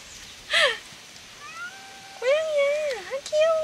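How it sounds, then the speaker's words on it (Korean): Two cat meows, a short one and then a longer, wavering one, fairly close, with a quieter mew at the end. "고양이야, 아, 귀여워."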